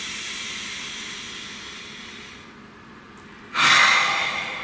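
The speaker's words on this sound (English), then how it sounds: "all of that set up for that big deep breath is so worth it" A big, deep breath drawn in and let out, a long airy inhale followed by a louder, broad rushing exhale near the end, close and alone with no talk.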